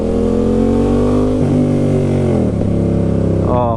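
A 2020 Yamaha MT-07 with a full GR Moto exhaust system revs loudly and close up, its deep engine note rising and falling in pitch for several seconds.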